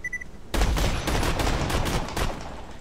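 A semi-automatic gun in Borderlands 2 fires as fast as the trigger is pulled, a rapid, loud stream of close gunshots that starts abruptly and runs steadily to the end.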